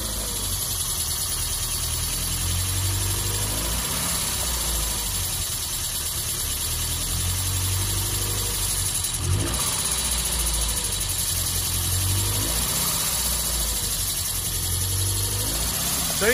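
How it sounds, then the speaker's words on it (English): A 1970 Lancia Fulvia 1.3S Sport Zagato engine idles steadily around 1100 rpm with a constant airy intake rush, a smooth continuous drone with no talking. "So you hear a fair amount of intake noise."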